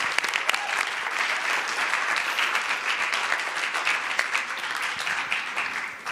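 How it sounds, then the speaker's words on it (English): An audience at a scientific annual meeting applauds a keynote speaker, a dense, steady round of clapping from a large room that fades slightly at the end. "let's give Scott a nice round of applause"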